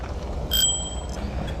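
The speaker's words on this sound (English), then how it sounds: "We're gonna make it official right now with the little bell ring." A bicycle bell on an Aventon Aventure e-bike rings once, a bright, clear ding that sustains briefly and fades, heard close up against a low outdoor rumble.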